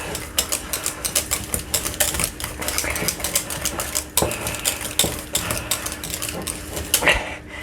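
A metal whisk beats mashed potatoes in a bowl, giving a fast, irregular run of close clicks and scrapes with sharp taps against the sides, steady throughout with no talking.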